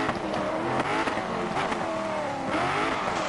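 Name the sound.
rally car engine revving in neutral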